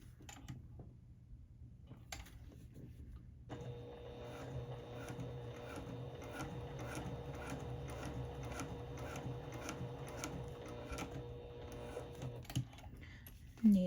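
A home sewing machine stitches around a fabric pocket with an eighth-inch seam, its fast steady mechanical whir and needle ticking running close and continuous for about nine seconds before stopping.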